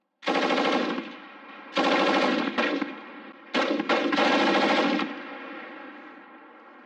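Machine gun fire during a military live-fire exercise on a bunker, loud sustained bursts with short pauses between them, echoing outdoors, no voices.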